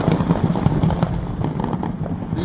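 Residential New Year fireworks in Honolulu pop and crackle in a dense, continuous barrage, with rapid overlapping bursts at close to moderate distance and no talking.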